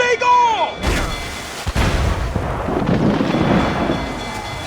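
Mortar fire in Assassin's Creed Freedom Cry: a deep booming blast with rumbling, thunder-like aftermath and scattered crackling impacts, loud and close, with brief shouted voices at the start.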